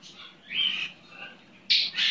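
A small pet baby bird squawks from its cage in three bursts: a long call, a fainter one, then a sharp loud squawk followed by another, close to the microphone with no talking.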